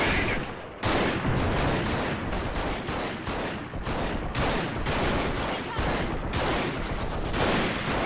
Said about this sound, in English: Shots are being fired already.